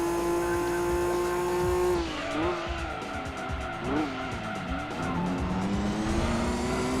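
Honda NSX race car in Gran Turismo 2, its engine droning steadily with clear pitch changes through gear shifts, alongside tyre squeal and skidding as it corners; loud and continuous, with no talking.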